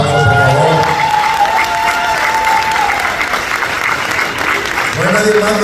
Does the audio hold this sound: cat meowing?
no